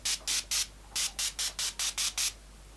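Ten short, crisp hisses from a pump bottle of mineral and vitamin marine facial mist, fired in quick bursts of three and then seven in an even rhythm, close and clear with no talk.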